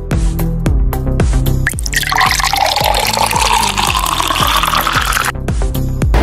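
Liquor poured into a shot glass, a steady bright gush of liquid lasting about three seconds, set against a loud continuous background of music.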